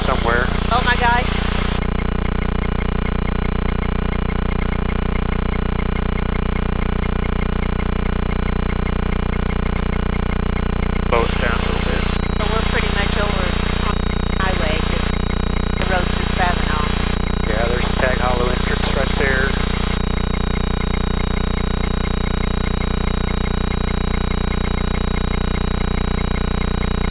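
A small airplane drones steadily in flight, a constant close engine and propeller hum heard from inside the cabin, with people talking over it now and then.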